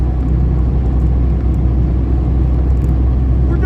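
Loud, steady road and engine rumble from inside a car moving at about 90 km/h in bumper-to-bumper highway traffic, a constant dense drone with no talking.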